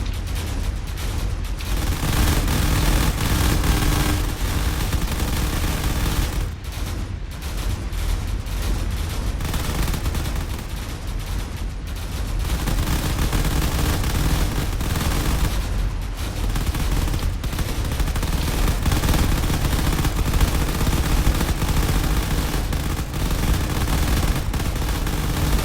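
Turret gunfire in a space combat game, a dense, continuous roar of rapid shots and rumbling blasts, loud and steady throughout with no talk.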